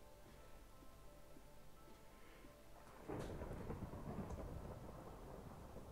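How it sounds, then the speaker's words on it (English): Thunder from a lightning strike in the Minecraft video game rumbles in after a quiet start, a low rolling boom with rain-like crackle that fades gradually, heard alone without talk. "Man, the lightning's that loud, even from down here."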